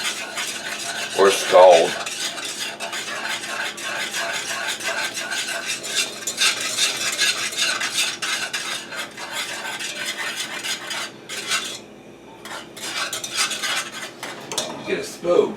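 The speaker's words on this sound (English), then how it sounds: "So I'm continuously whisking this because I don't want the milk to burn" A whisk stirs milk for vanilla pudding in a pot on the stove, scraping and clinking steadily against the metal in a continuous close rhythm, with brief pauses near the end.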